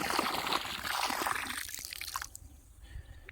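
A liquid bacterial culture is stirred into water for an ashwagandha crop, giving a faint, close sloshing and trickling that runs steadily and then thins into scattered drips.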